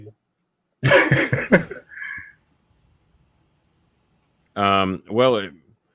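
A person lets out a loud, close burst of rough coughing, then after a pause gives two more short, voiced hacking sounds, with a brief quiet gap in between.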